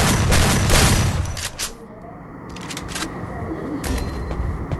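Rapid shotgun blasts from an M1887-X in Free Fire gameplay, a burst of loud close shots at the start followed by quieter in-game ambience and further faint shots.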